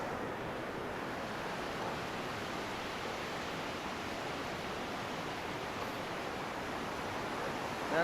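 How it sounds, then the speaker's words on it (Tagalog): Large ocean waves breaking on a beach at a resort in San Fernando, heard as a steady, loud, continuous wash of surf with no pause and no clear individual crashes. "Laki na alon, no?"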